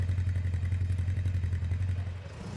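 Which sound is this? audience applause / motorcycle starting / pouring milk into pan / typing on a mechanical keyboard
motorcycle starting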